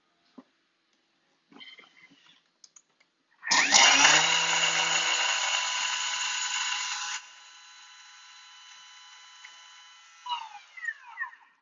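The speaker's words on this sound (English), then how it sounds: "we're just going to grind this down. So it's going to take 15 seconds at speed 10." A kitchen machine grinds ingredients for an Estonian kringle at speed 10, starting with a few clicks before a loud high-pitched whirring roar that drops to a lower hum, then winds down with rattles.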